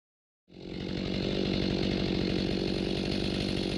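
A chainsaw starts up and runs steadily at high revs while cutting tree stumps flat, loud and close, a continuous buzzing roar.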